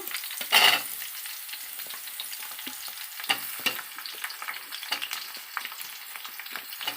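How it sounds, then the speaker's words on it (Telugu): Drumstick pieces fry in oil with curry leaves, a loud burst of sizzling as they drop in, then settling into a steady close crackle with scattered pops and stirring. "సిమ్లో పెట్టి కాసేపు నూనెలో వేగనించుకోవాలి వేయించుకోవాలి"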